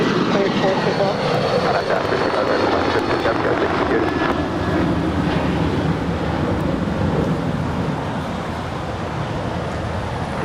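A SkyWest airliner on takeoff from runway 25 right at LAX gives off a loud, steady jet roar that holds throughout, with radio chatter from air traffic control over it.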